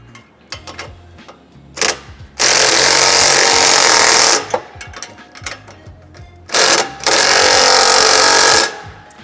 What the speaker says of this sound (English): If they do, we can hit the back 2 clamps.